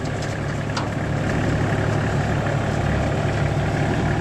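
A Kubota L1 mini tractor's small engine idles steadily and continuously, a low even rumble with no talking.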